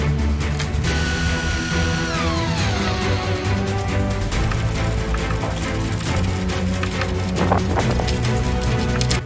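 A power tool runs steadily, driving coach screws through joist hangers into deck joists on a ground-level timber deck build, its motor whining continuously with rising and falling pitch and no speech.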